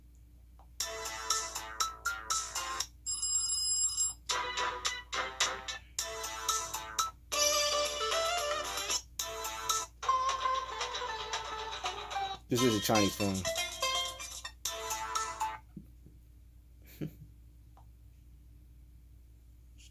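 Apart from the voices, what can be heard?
ringtone of Umidigi One Pro phone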